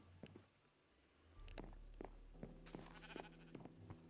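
Sheep in the Minecraft video game bleat several times in short separate calls over a low steady hum, with faint footsteps and thunks between them and no talking.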